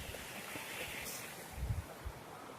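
Faint running water of a snowy creek along a hiking trail, a soft continuous wash with light wind noise and a few low bumps near the microphone.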